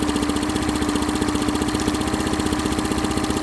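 A Honda BF15 outboard motor has its carburetor idle screw turned back up and runs as a steady, close mechanical putter of rapid, even pulses, with no voices over it.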